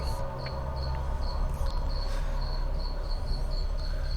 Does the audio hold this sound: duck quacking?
no